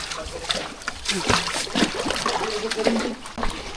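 Sea waves splash and slosh close by in uneven bursts, with people talking over the churning water.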